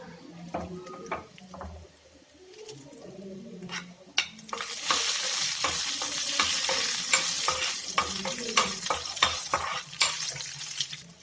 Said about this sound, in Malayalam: ഉള്ളി ഒന്ന് മൂത്ത് വരുമ്പോഴേക്കും നമുക്ക് ഒരു 2-3 വറ്റൽമുളക് ഒന്ന് ചേർത്ത് കൊടുക്കാം.